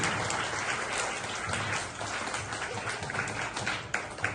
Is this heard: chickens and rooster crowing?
no